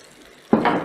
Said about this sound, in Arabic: هننزل بعصير الطماطم